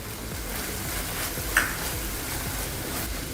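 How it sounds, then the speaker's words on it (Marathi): A Schezwan sauce and tomato ketchup mixture sizzles on a hot tawa while being stirred, giving a steady close hiss with one brief clink of a utensil partway through and no talk. "व्यवस्थित मिक्स करून घ्यायचंय. चांगलं 2 मिनिटं चांगलं परतायचंय."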